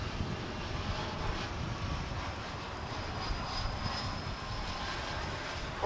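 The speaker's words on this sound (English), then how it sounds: "The only A380 we see here at DFW Airport currently. It's going back to London." A British Airways Airbus A380 at Dallas/Fort Worth Airport produces a broad, steady roar of distant jet engines that holds at an even level the whole time, with no talk over it.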